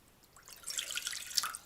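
Water poured into a pot to mix with turmeric for golden milk, a soft splashing trickle that builds and then tapers off, faint and close with no talking.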